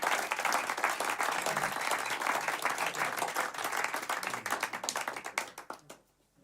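Live audience applause and clapping at the end of a song in an intimate studio concert, dense and steady for about five seconds before thinning out and stopping.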